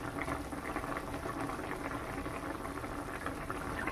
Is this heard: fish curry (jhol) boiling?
yes